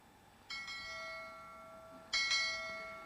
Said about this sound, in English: I am going to ring the bell